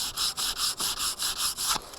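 Hand sanding a wood workpiece with 180 grit sandpaper: eight quick rhythmic rasping strokes, close and fairly loud, each a short scratchy burst with brief gaps between.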